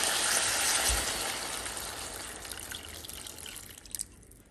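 Water pours into a pan of tomatoes that have begun to release their juice, giving a close, steady splashing trickle that slowly eases off and ends in a few drips.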